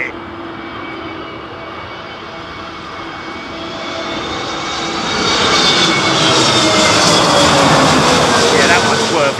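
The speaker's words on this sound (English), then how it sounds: "that's got to be one of the craziest landings" An airliner lands at Heathrow in strong Storm Gerrit winds, its jet engines' roar swelling steadily from a distant rumble to a loud, close whine.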